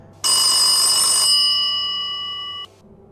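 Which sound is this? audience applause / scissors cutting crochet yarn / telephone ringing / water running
telephone ringing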